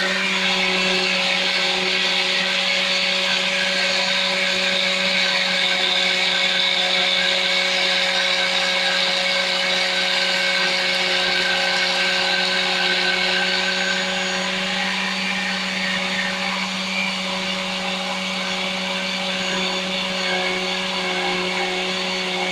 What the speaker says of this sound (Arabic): هشغل عليهم الخلاط وهنزل سنه سنه بالزيت.